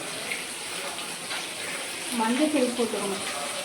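Tomatoes soften in a pan during a fish feast cook-up, making a quiet sizzle that swells briefly near the end, with light background murmur and no clear speech.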